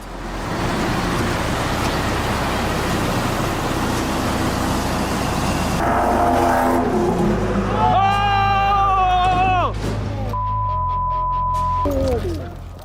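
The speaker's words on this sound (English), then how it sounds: "A beautiful acceleration from this Ferrari that ends badly" A Ferrari accelerates hard, its engine note climbing loud and close over steady road noise, then the run ends abruptly as it crashes, with other vehicle sounds around it.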